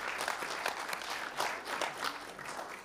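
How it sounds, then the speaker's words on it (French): Brief, fairly faint applause from the audience at a Grand Nancy metropolitan council meeting, with a steady patter of many hands clapping. "on peut l'applaudir encore"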